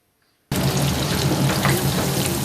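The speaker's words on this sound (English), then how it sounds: "It could be the sizzle of light and crispy batter." After a moment of silence, a loud, steady sizzling and crackling of fish-and-chip shop batter frying starts abruptly and continues.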